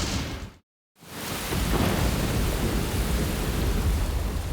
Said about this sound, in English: The Atlanta is weathering the storm, which is losing intensity.